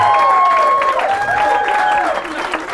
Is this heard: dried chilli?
no